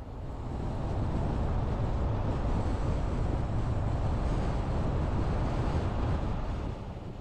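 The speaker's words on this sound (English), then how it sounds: "Creates a lot of wind." Continuous loud wind buffets the microphone on a scenic drive along Parker Dam Road by the Colorado River, a dense low roar that stays steady throughout with no voices.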